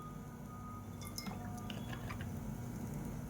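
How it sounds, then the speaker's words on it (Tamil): Sesame oil is poured into a pressure cooker as a few quiet drips and trickles cluster in the middle, over a faint steady kitchen hum. "தேவையான அளவுக்கு நல்லெண்ணெய் சேர்த்துக்கலாம்."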